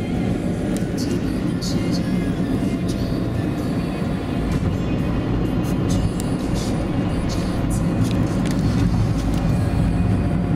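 Steady low road or rail rumble of a vehicle on a long journey in China near Shanghai, a broad continuous drone with faint clicks and rattles above, loud and unbroken throughout.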